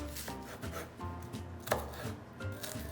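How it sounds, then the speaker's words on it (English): A halved onion being finely diced with a knife on a board, quiet rapid tapping chops in an uneven rhythm with one sharper knock partway through, close and alone without speech. "we've halved an onion. You want to dice it up as finely as you have the patience for"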